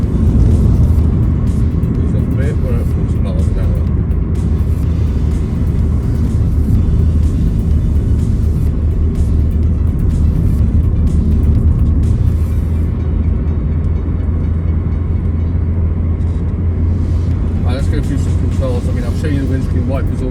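Steady low engine and road rumble from a 2001 Subaru Impreza 2.0 GX cruising at 40 mph, heard from inside the cabin with a driver talking over it throughout.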